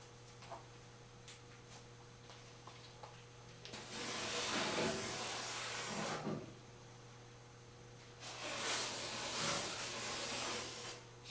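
Internal frame coating sprays inside the quarter panel and rocker panel of a 1973 Toyota Celica in two sustained hissing bursts of a few seconds each, separated by a pause with faint ticking and a steady background hum.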